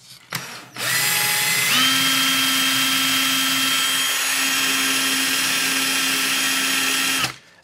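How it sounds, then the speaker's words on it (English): A power drill running in reverse whirs steadily at high speed for several seconds after a brief start, with a gritty rasp of sandpaper against a spinning rotor from a Polaroid SX-70 Model 2 camera, loud and close. "I'm just going to put this in my drill, grab myself some sandpaper"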